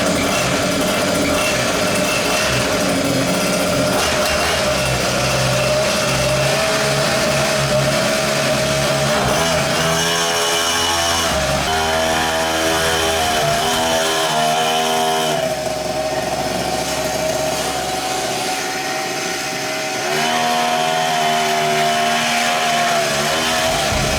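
A small mini bike engine starts up and runs, a loud, buzzing, raspy two-stroke-like drone that revs and dips in pitch several times, close and continuous with no talking.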